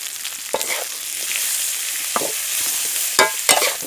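Bird meat and chili stir-fried in a hot pan for a Thai spicy dish, giving a steady close sizzle with a few sharp scraping stirs of the utensil against the pan.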